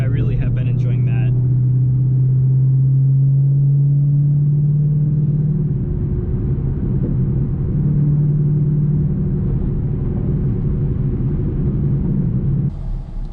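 Ford Mustang with a manual gearbox rumbling steadily while driving, the engine note rising then settling into a low drone under talk, with a brief chatter at the start and end.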